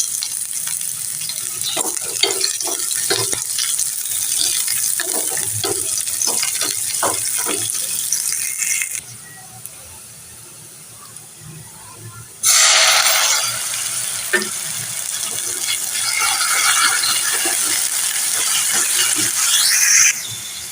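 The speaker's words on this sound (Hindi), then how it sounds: "अब पैन में मैंने डालूंगी प्याज" Onions sizzle and fry in a pan for a mixed dal recipe, a steady loud crackle with stirring scrapes, briefly quieting before a burst of hissing and running water, then sizzling continues.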